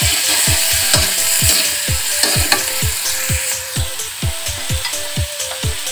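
Spices with bottle gourd stems sauté in a pan, a steady sizzle broken by a quick, regular run of scraping stirs close by, with no talking.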